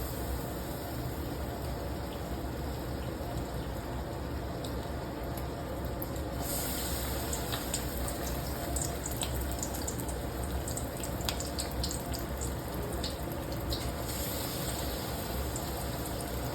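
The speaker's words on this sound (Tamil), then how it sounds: "இப்போ நம்ம முட்டையெல்லாம் டிப் பண்ணி பொரிச்சு எடுத்துடலாம்" Egg bondas sizzle in hot oil on a low-to-medium flame, a steady close hiss that turns busier and crackly partway through as more pieces go in.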